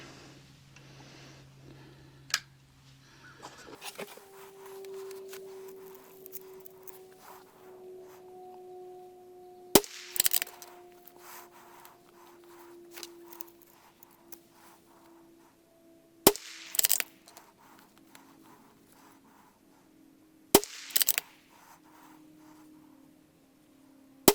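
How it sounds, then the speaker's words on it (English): A CZ 457 rifle firing Lapua Super Long Range ammunition produces four sharp, loud shots spaced several seconds apart, each with a short echoing tail, over a quiet outdoor background with some faint handling noise and no talk. "now we're going to switch over and shoot Lapua Super Long Range"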